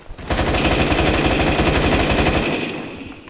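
Rapid automatic gunfire from a Roblox first-person shooter game, a loud, continuous burst of fast shots lasting a few seconds before cutting off.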